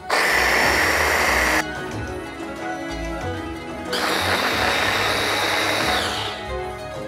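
A blender whirs loudly through a yogurt and coconut marinade for green chicken karahi, running in two bursts separated by a quieter stretch, close and with no talking.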